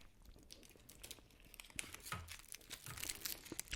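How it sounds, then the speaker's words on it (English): Christmas sweet wrappers crinkled in stereo, a soft, close, irregular crackling that comes and goes and grows busier and louder toward the end, with no talking. "I do some crinkling as well in stereo."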